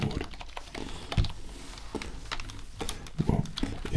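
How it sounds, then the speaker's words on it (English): A computer keyboard is handled and set down on a table, giving scattered soft clicks, taps and knocks at an irregular pace, fairly close and quiet. "So this is your keyboard."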